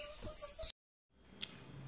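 A green-winged saltator (trinca-ferro), a caged songbird, gives a short, bright descending whistle that cuts off abruptly, followed by quiet room noise.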